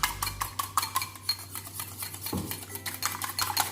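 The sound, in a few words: whisking egg and milk together in a bowl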